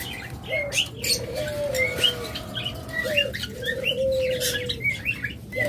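Caged pet birds, lovebirds or budgerigars, keep up a busy mix of chirps and tweets along with softer, longer cooing calls and occasional wing flutters nearby.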